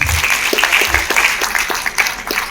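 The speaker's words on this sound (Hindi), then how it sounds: "आप लोग अपने लिए जोरदार तालियां बजाएं" A crowd of entrepreneurs at an awards ceremony in Lucknow claps heartily for themselves, dense continuous applause filling the hall throughout.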